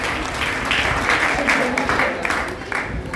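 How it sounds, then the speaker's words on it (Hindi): A crowd applauds steadily at a Hindi poetry gathering in an ashram, dense clapping mixed with cheering and some voices, sustained throughout at a fairly loud level. "एक बार आप सभी लोग अपने लिए पर जोरदार तालियां बजाएं।"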